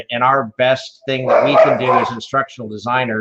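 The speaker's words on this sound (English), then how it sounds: "sorry about my dogs" Pet dogs barking and yipping in a home in short bursts beneath a voice, which stays in front throughout.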